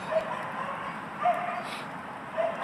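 Dog barking outdoors near a rocket stove fire, three short faint yips spaced across a couple of seconds over steady background noise.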